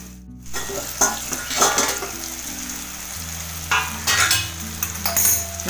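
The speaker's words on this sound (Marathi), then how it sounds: "आता ही कोलंबी टाकूया. आता हलक्या हाताने फक्त परतूया." Prawns sautéing in a pan for prawn masala, a crackling sizzle punctuated by repeated scrapes and clinks of a spoon stirring against the metal, close up, with no talking.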